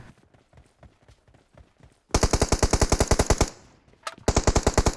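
Automatic gunfire in the mobile game PUBG Mobile, a loud rapid burst of evenly spaced shots after quieter scattered pops, a brief pause, then another fast loud burst; no talk.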